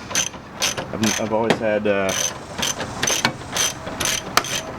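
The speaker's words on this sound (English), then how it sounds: "Never used my standard socket set." A ratchet socket wrench clicks in quick bursts, loosening bolts on a Jeep YJ tub, close and sharp, with a brief spoken phrase partway through.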